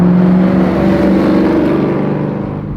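Engine and exhaust of a Pontiac GTO fitted with MagnaFlow mufflers, a loud, steady low rumble holding close and continuous throughout, with no voices over it.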